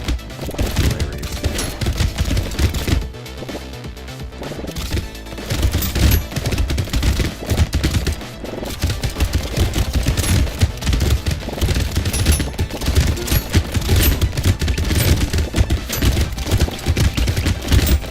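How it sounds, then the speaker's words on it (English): A Gatling gun in the Brotato video game fires in a dense, continuous rattle of rapid shots. It stays loud and steady for the whole stretch, with only a short dip in the middle, all set over a busy game soundtrack. "Help me shoot these guys, Catling gun."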